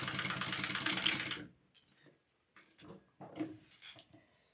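A sewing machine basting fabric pieces together runs in a fast, close, even whir for about a second and a half, then stops, followed by quieter handling and shuffling of cloth.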